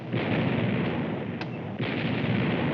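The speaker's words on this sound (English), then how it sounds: "The shells exploding above sound like distant thunder." Artillery shells exploding and big guns booming overhead in wartime Japan, a dense continuous rumble of distant bombardment like far thunder, with a sharper crack midway and no talking.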